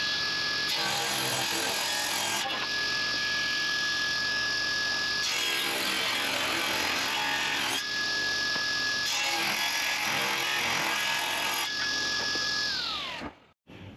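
A power tool cuts wood molding for a tiny house window jamb while the stock rides against a fence, producing a loud sustained whine with a steady tone that swells in several passes and then spins down at the end.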